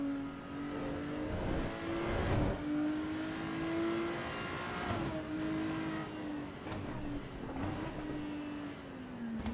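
A Ferrari engine in the Assetto Corsa EVO racing game drones steadily at moderate revs, its pitch rising and falling gently with throttle changes, with a few brief louder bursts over continuous engine noise.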